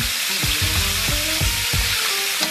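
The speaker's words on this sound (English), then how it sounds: "I'm going to let this fry another 5 minutes and then we'll take it on out." Chicken pieces frying in hot oil give a steady, close sizzle with soft bubbling and a few louder crackling bursts, no voices present.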